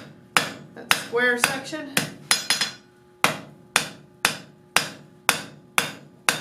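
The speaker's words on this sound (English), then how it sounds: "Working slowly back to myself with the hammer, or feeding into the hammer with the tong hand is a great way of rounding that up." Steady hammer blows ring out on a hot steel bar being rounded into a flux spoon at the anvil, a dozen sharp strikes in a loose, even rhythm, close and loud, with a brief spoken remark partway through.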